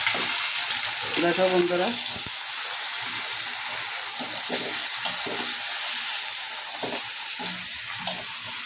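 Fish heads fry in a small amount of oil with mixed vegetables, a loud, continuous sizzle and hiss with occasional stirring scrapes; a voice speaks briefly near the start over the crackling.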